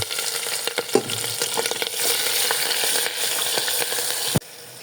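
Onions and chilies hit hot oil with panch phoron in a pan for khichuri, bursting into a loud close sizzle with stirring scrapes, then cutting off abruptly near the end to a quieter hiss.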